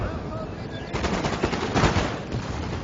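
A ragged musket volley from infantry in Napoleon Total War crackles as a dense burst of overlapping shots, loudest in the middle, with faint game noise around it.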